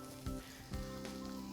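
Slices of ham sizzle quietly in a hot frying pan, a soft, steady crackle with a couple of faint bumps of handling in the pan.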